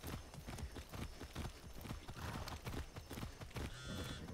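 Horse hooves clip-clop in a steady, quick rhythm while riding in the Far Cry 6 video game, the footfalls close and fairly loud with no talk over them.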